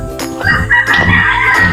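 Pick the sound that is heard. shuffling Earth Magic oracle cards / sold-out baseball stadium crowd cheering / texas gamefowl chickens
texas gamefowl chickens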